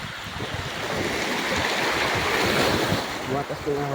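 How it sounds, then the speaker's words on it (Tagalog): Big ocean waves crash and roar continuously at close range along the coast at Caramoran, Catanduanes, with a brief voice near the end. "Tumatas ng alon."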